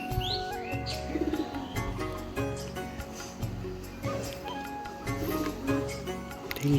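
A pair of Face of Beauty pigeons, a male and a female, coo in soft repeated low throaty phrases at close range, with light chirps and rustling around them.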